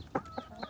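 Chickens give three short, soft clucks in quick succession while pecking at hard nuts, faint and close with quiet background.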